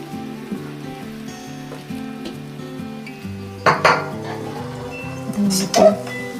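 Poha being sautéed in a pan at home, with spoon clinks and scrapes against the metal pan and a low sizzle throughout, plus a few sharper clatters near the end.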